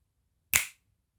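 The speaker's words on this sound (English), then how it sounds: "When I snap my fingers, you are going to come back to the present moment." One crisp finger snap sounds alone, close and sharp, against near silence.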